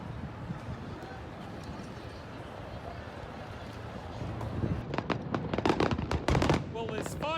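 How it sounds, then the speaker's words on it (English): Fireworks burst in quick crackling volleys outdoors near a security barrier, rising from a steady crowd murmur into loud, dense pops over the last few seconds. "Well, there's fireworks suddenly."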